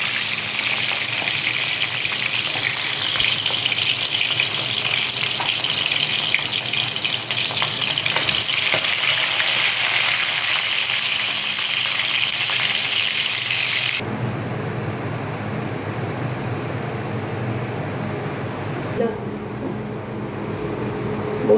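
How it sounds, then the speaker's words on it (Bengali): Pomfret fish frying in oil in a pan, a dense and loud continuous sizzle that drops to a softer, steadier crackle partway through, with no talk. "একটা একটা করে ভাজতে দিয়ে দেব।"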